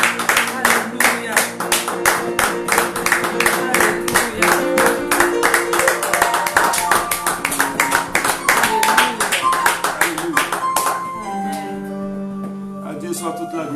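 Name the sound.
congregation clapping during church praise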